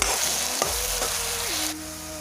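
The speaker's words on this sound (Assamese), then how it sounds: "এয়া পিঁয়াজ আদা নহৰু পেষ্টখিনি দি এতিয়া ভালকৈ লৰাই দিম।" Onion, ginger and garlic paste fries in hot oil as it is stirred in a pan, a steady, close sizzling hiss that runs throughout with no talking.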